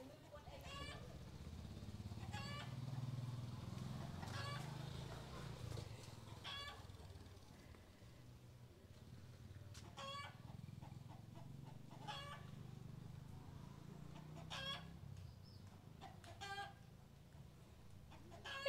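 A rooster in the Cambodian countryside clucks in short, repeated bursts, faint and somewhat distant, over a steady low rumble.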